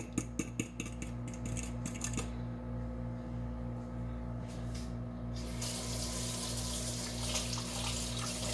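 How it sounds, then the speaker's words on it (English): Tap water runs into a kitchen sink while a fork is rinsed underneath, with a few metallic clinks at the start and the flow turning stronger later, close and fairly quiet. "Wash my fork off, dry it off."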